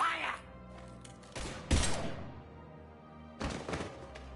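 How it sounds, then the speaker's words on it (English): Gunfire in the Mass Effect 3 video game: a few sharp, loud bursts of shots with thudding impacts, separated by quieter stretches of game ambience and faint voices. "Now open fire!"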